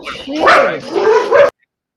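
A dog barks close and loud in an indoor setting, a short run of yelping, whining barks lasting about a second and a half before cutting off into silence.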